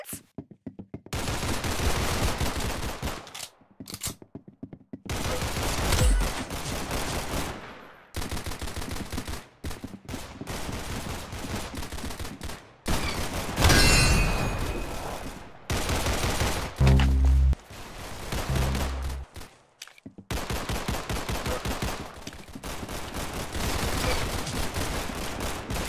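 Rapid gunshots in the Roblox Arsenal video game, repeated bursts of close, loud automatic fire broken by brief silent gaps, continuing across the whole stretch.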